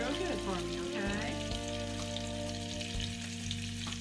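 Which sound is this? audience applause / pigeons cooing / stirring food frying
stirring food frying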